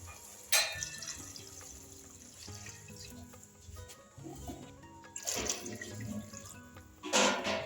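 Water pours and splashes into a pot of fish curry in a few bursts, the first near the start and a louder gush toward the end, fairly quiet overall.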